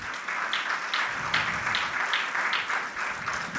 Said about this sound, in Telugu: అబ్బా చప్పట్లు వచ్చేస్తున్నాయి కదా.